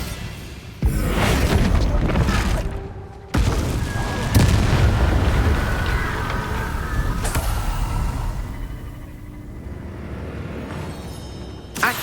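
Bombarda blasts from the Hogwarts Legacy spell: sharp booming explosions hit near the start and middle, each followed by a long rumbling decay with crackling debris before the scene fades quieter.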